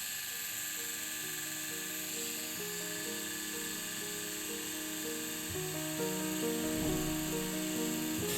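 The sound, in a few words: tattoo machine buzzing at low voltage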